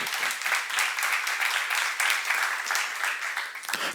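A church congregation at a seminar claps together, a steady dense wash of many hands clapping throughout, fairly loud and unbroken, with no speech over it.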